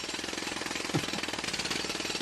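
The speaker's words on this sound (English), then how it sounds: "cue the jackhammer noises right now" A jackhammer pounds in a fast, steady, relentless rhythm, loud and close, filling the whole stretch with harsh mechanical hammering.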